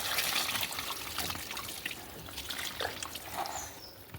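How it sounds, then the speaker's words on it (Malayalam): Water slowly tipped out of a lotus plant tub, a continuous splashing trickle and gush with shifting drips, close and steady throughout. "ഈ വെള്ളം മെല്ലെ ചെരിച്ച് കളയുക"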